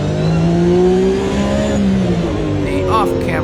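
A Porsche Cup race car on the Long Beach street circuit roars loudly from on board, engine note dropping under heavy braking and then climbing again on exit, with a commentator talking throughout.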